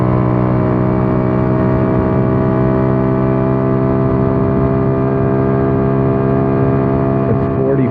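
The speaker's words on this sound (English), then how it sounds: "So this is full throttle, going uphill." A 150cc scooter engine held at full throttle while climbing a hill, a loud, constant droning whine that stays level and unbroken from start to finish.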